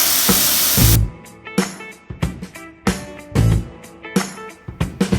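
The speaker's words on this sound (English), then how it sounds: "we're going to fry it on medium and on 3 minutes for each side or until golden brown" Fish frying in oil in a pan over medium heat gives loud, uneven bursts of hissing sizzle that flare up and die down again and again, with no one talking.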